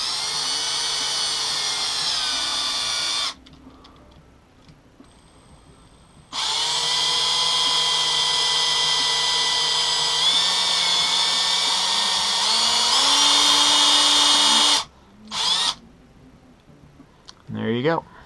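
A power drill bores holes into a plastic contact poi pod during an LED light mod, whining loudly in long sustained runs with pauses between, its pitch shifting slightly as it works, ending in brief bursts.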